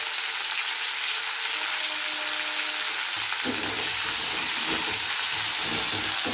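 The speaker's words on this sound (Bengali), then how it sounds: "ভালো করে লাল লাল করে ভেজে নেব।" Cauliflower florets with salt and turmeric frying in a pan, a continuous bright sizzle that grows busier and crackly halfway through, with soft stirring.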